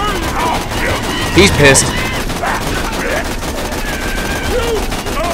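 Gunfire bursts from the video game Borderlands 2, a mix of rapid shots and a louder blast around the middle, heard against a busy game soundscape while someone talks over it.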